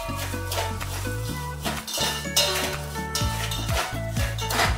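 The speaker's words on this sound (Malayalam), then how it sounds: "ഇനി ഇതേ എണ്ണയിലേക്ക്, ഇതേ നെയ്യിലേക്ക് നമ്മൾ വെർമിസെല്ലി സേമിയ ആഡ് ചെയ്യും." Vermicelli roasting in hot ghee in a pan, stirred steadily with a spoon that scrapes and clinks against the metal, with a soft continuous sizzle underneath throughout.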